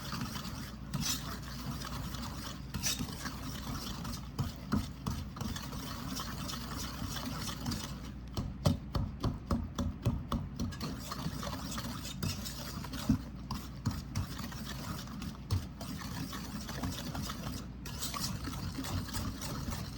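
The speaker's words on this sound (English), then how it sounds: "I'm going to mix this really good." Cookie bar dough worked by hand with a Dutch dough hook in a bowl, giving repeated rubbing, scraping and soft thudding strokes in an uneven rhythm, close and continuous with no talk.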